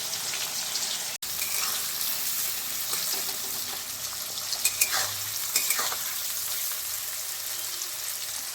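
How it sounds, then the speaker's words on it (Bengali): Chopped onions frying in hot oil with a bay leaf, a quiet steady sizzle with a few brief stirring taps and scrapes, close and without talk. "সঙ্গে আমি দিয়ে দিচ্ছি কুচানো পেঁয়াজগুলো দিয়ে আমি সব ভেজে নেব লাল লাল করে"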